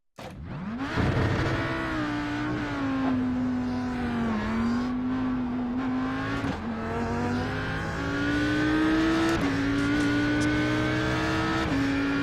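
Audi R8 GT3 race car lapping Bathurst in a racing video game, its engine droning loud and steady throughout, pitch climbing and falling with gear changes under acceleration, with occasional tyre squeal.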